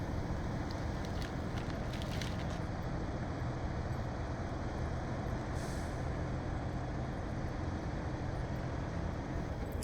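Heavy MTVR Mk23 military truck fitted with a cargo bed and studded tires, driving up an icy route in SnowRunner; a steady, loud engine drone with wind-like rumble, some hissing bursts early on, and no talk.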